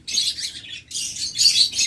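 Pet birds including green opaline budgerigars, lovebirds and cockatiels chirp in bright, high twittering bursts, two or three close clusters with a short gap between, loud and near with no talking.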